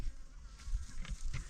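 Honeybees buzz softly at an opened beehive, a faint, continuous droning hum with small fluctuations and no speech.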